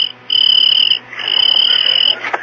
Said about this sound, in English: Now, George, he's just a little cricket and he's not hurting you.